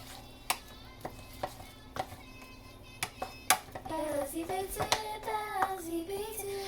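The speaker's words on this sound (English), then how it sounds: "And then I'm going to mix it all together." Fresh tomatoes being stirred into a huevos rancheros filling with a utensil, giving sharp clicks and scrapes against the pan at an irregular pace, with soft voices and faint whistly tones over the later part.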